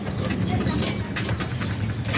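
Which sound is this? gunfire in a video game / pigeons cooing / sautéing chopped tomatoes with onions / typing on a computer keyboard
pigeons cooing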